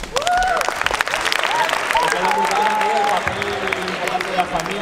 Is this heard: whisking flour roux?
no